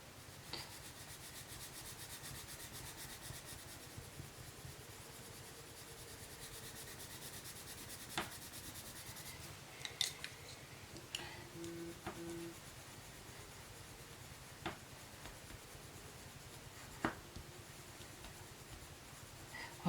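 Colored pencils scratch and rub softly across paper in quiet continuous strokes, with a few small taps as the pencil is lifted and set down, close and faint.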